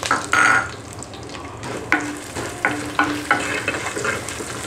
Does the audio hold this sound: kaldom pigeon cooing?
no